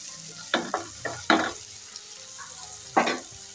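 Onions frying in a pan with ginger and garlic give a soft steady sizzle, broken by a few louder scraping stirs, close by and with no voices.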